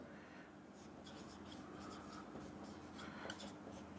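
A pen writes out a maths statement on paper, making faint, soft scratching strokes in short irregular bursts. The sound is quiet and close, with no talk.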